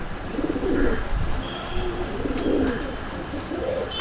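A pair of pigeons in a home loft coos in low, rolling phrases close by, the soft calls swelling and fading repeatedly with no voices.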